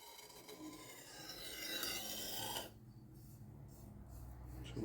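An OKC RAT-7 knife blade drawn in gentle passes across an Ultra Sharp II diamond stone, a soft gritty rasping that builds then stops abruptly, followed by quiet.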